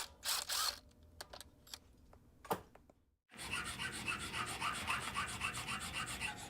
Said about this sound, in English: We have to sand this down to achieve a gap of between 5/8 thousandths of an inch